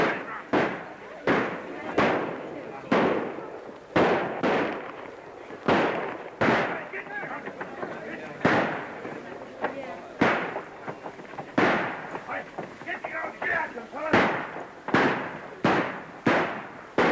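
Repeated gunshots in a 1935 western film, sharp loud bangs fired in an irregular volley of about twenty shots, with voices heard between them.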